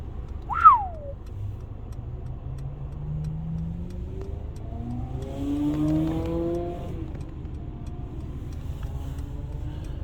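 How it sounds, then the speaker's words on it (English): A Ferrari sports car engine revs and roars past, rising and falling in pitch over several seconds, after a brief sharp squeak at the start. "That's a Ferrari, ladies and gentlemen."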